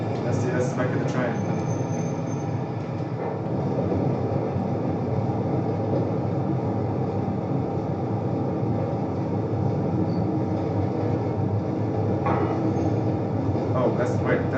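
A steady rumbling train noise from an Xbox video game runs throughout, dense and continuous, with a few brief higher hisses near the start and end, like a game soundtrack's rail ambience.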